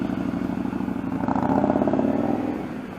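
A student rider's motorcycle engine runs nearby during slow-speed practice, the throttle rising into a steady, louder drone before easing off slightly at the end.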